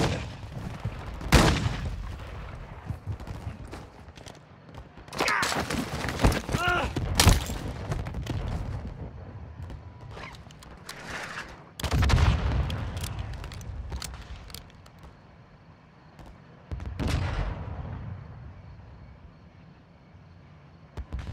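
Bursts of suppressing gunfire in Modern Warfare 2: loud rattling volleys and single heavy shots come in irregular clusters, mixed with thuds and explosions, over a dense game soundscape with occasional voices.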